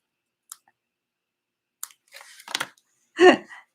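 Scissors cut a small piece of paper for a stamped card craft, with a few isolated snips followed by short crisp cutting and crinkling sounds up close in an otherwise quiet room.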